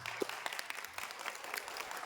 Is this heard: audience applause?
yes